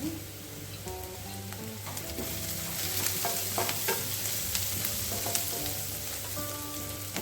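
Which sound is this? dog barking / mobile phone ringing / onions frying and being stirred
onions frying and being stirred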